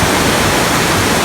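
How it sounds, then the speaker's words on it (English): A river rushing on a hike, heard as a loud, dense, steady wash of broadband water noise with no pauses. "This river is pretty"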